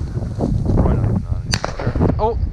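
A shotgun shot on an Illinois pheasant hunt cracks once, sharp and loud, amid rustling field noise, while people talk and call to a dog around it.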